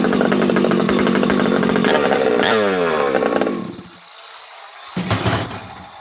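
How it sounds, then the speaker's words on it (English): Husqvarna 371xp chainsaw roaring loud at high revs, then dropping off, falling quiet for about a second, and sputtering back to life in a short burst. "if this saw don't start and idle good, I'll be the first one to tell you"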